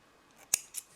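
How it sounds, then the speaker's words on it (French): Scissors snip crochet yarn, two quick crisp metallic cuts close together, loud against an otherwise quiet background. "Et on coupe le fil"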